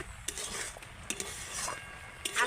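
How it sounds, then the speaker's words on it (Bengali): Semolina is stirred into a stiff dough in a pan over low heat for chomchom sweets, with uneven clinks and scrapes of a spoon against the pan over a faint sizzle. "এখন আমি নেড়ে চেড়ে একটা শক্ত ডো বানিয়ে নেব"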